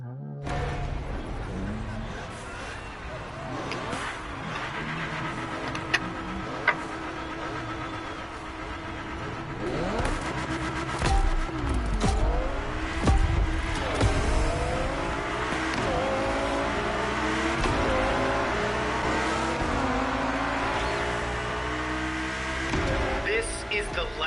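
An Audi R8 Spider racing in a video game, its engine revving and rising through gears with tire squeal, loud and continuous for a long stretch, with speech faintly underneath.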